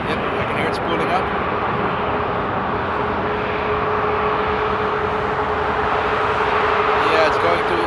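Jet airliner engines spool up before taxiing at Frankfurt Airport on a frosty de-icing day, a steady broadband roar with a faint rising whine holding throughout at moderate distance.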